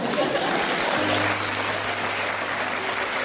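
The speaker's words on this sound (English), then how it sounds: "You see, it's being applauded." Audience applause, a dense steady patter of clapping filling the short clip at an even level, with a faint hum underneath.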